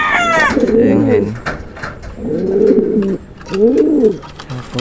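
A breeder hen pigeon in a racing-pigeon loft gives three loud, close, rolling coos in a row. A few thin chirps come just before them.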